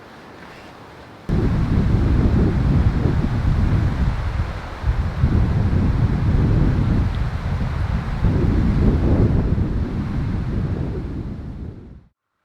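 Strong wind buffets a camping awning room attached to a Jeep at night, a loud sustained roaring rush with gusting surges that starts abruptly and cuts off at the end.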